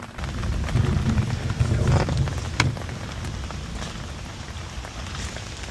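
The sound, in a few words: rain falling during a storm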